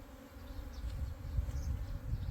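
A swarm of honey bees in cold mountain air gives a low, continuous buzzing drone that swells and wavers slightly, close and fairly quiet, with no talking.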